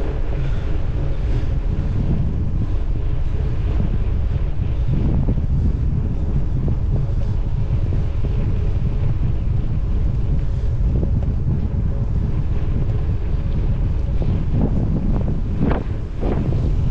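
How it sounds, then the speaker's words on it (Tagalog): Strong gusty wind buffets a microphone while cycling on a bike with wide tires, a constant loud low roar with rumbling surges and no voices. "Lakas ng hangin na."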